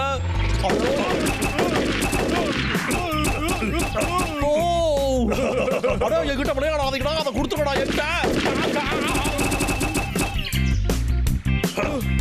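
Cartoon gunfire sound effects in a Bablu Dablu Tamil animated show, rapid bursts of shots over bright music and busy effects, with animated characters talking and laughing throughout.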